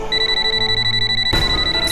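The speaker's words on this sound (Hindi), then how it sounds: "अब बजेगा मेरे फोन का अलार्म" A phone alarm rings with a repeating electronic beeping pattern, loud and close, followed by a brief burst of noise near the end.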